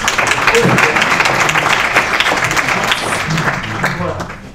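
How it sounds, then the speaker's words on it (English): An audience applauds to welcome three women onto a panel on digital technologies and human relationships. The clapping is dense and loud, and voices and talk mix through it as it tapers off at the end. "please welcome them with a grand applause"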